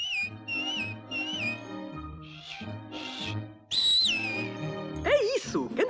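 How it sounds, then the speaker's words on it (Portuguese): A bright whistled melody over orchestral music from Pinocchio in European Portuguese, rising and falling in short phrases, with a sung or chirpy voice joining near the end. "Se não sabes e quiseres saber assobiar, dá um assobio."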